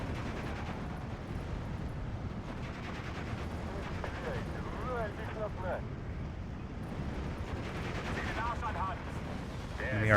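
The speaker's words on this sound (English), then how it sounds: "Enemy artillery is starting to hit the Stug 3." Artillery fire from the Steel Division 2 video game booms and crackles dully in a dense battle mix, with scattered blasts and gunfire under steady background noise.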